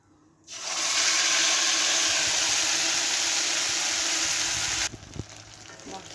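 Chili, tomato and ginger paste hits hot oil in a pan and erupts into a loud, steady sizzle that holds for about four seconds before cutting off abruptly, followed by a few soft clunks.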